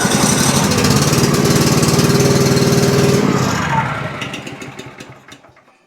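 A Cub Cadet XT2 mower's fuel-injected Powermore engine runs loud and close with a rough, pulsing chug, then winds down and sputters to a stop over the final seconds.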